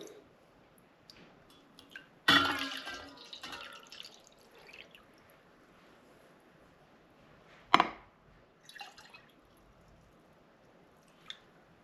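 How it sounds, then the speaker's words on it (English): Water scooped out of a home aquarium by hand, with a sudden splashy slosh, scattered drips and a second sharp splash later, otherwise quiet. "I'll scoop out a little bit more water."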